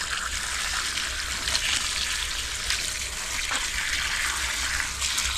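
Water runs steadily from a garden tap or hose while potting hydrangeas in containers, a continuous broadband hiss and splash holding at an even level throughout with no talking.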